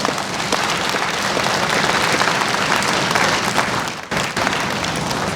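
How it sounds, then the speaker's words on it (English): Sustained audience applause fills the room after a call to honour an African diplomat at the Ga Mantse's address, a dense even wash of many clapping hands with a brief dip near the end. "Can we give him a round of applause?"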